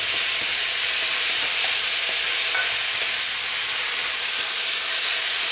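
Hibachi chicken, shrimp and vegetables frying hard on a hot stovetop, giving a loud, steady sizzle and hiss with light stirring scrapes, no voices.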